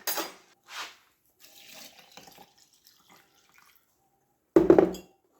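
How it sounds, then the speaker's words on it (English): A short burst of cold water pouring into a canning jar near the end, after a few scattered clinks and faint handling noises. "take your jar and fill it to the top with cold water"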